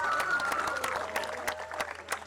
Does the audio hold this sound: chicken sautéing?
no